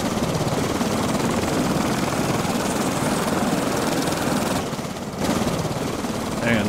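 Loud, steady rotor-and-engine drone of a gyrocopter in the survival game Stranded Deep, running continuously with a brief dip near the end before resuming.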